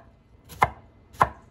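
A knife chops Brussels sprouts in half on a cutting board, two crisp separate cuts about half a second apart, close and clear with no talking.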